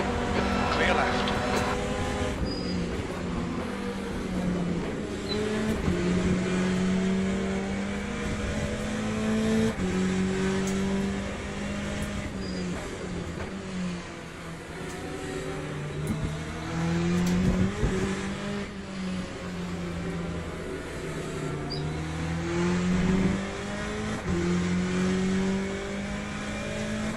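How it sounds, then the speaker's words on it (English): A race car engine in the sim racing game Le Mans Ultimate, droning steadily with rising and falling revs as a faster car closes in, loud and continuous throughout, with someone talking over it. "There's a faster car approaching."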